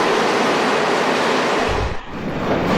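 A D-type steam locomotive hauling restored British coaches pulls into Newton Prior station, a steady broad rumble that eases briefly as the train slows to a stop, heard alone without voices.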